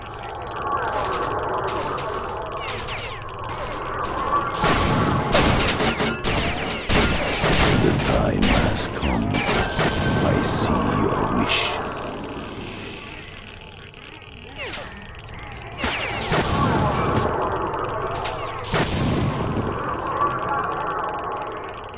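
Shotgun and other gunfire in the video game S.T.A.L.K.E.R.: Shadow of Chernobyl, with dense bursts of loud blasts clustered through the middle and again near the end, over game ambience.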